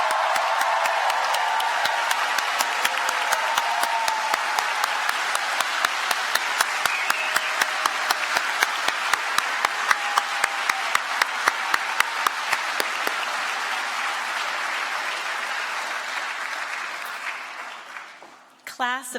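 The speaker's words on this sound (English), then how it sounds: "I think we need a round of applause for the UVA School of Medicine Class of 2027." Sustained loud applause from a ceremony audience honoring a medical school's incoming class at a white coat ceremony, steady dense clapping with crowd murmur lasting well over fifteen seconds before fading out.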